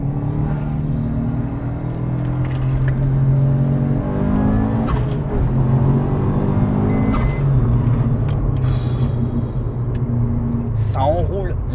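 A tuned Subaru Impreza WRX pulls hard through its gears from inside the cabin, engine note rising and dropping with each shift while occupants talk over the roar.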